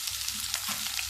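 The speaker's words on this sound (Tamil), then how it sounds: "சீக்கிரம் வெங்காயம் வதங்கிடும்." Onions sizzle and crackle softly in a hot pan, a brief steady frying hiss.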